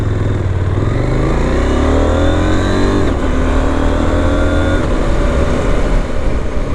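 A KTM 990 Duke motorcycle accelerating hard through the gears with a quick shifter: a loud, close engine note climbs in pitch, cuts sharply at each quick upshift around the third and fifth seconds, then climbs again.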